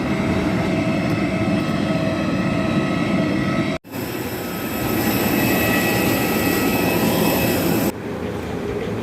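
An Air India aircraft at the airport gives a loud, steady engine roar with a droning hum, broken by a sudden short dropout partway through and a slight change in tone near the end.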